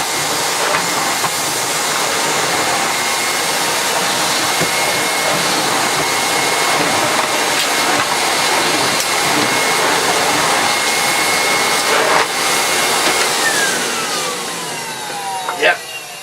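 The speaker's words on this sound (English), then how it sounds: "let's check it does actually vacuum up okay." A Miele S512 canister vacuum cleaner, shown before refurbishment, runs continuously with a loud steady whooshing roar and hiss for the whole stretch, with faint clunks as the head moves and the motor drops off near the end.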